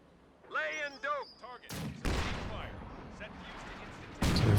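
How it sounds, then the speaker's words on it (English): In Company of Heroes 2, a Scott self-propelled gun and a US Forces mortar fire, giving sharp booming launches followed by a rumbling tail and then a later blast, after someone speaks briefly at the start. "I'm curious to test the rate of fire differences between the Scott and just the regular US Forces Mortar here"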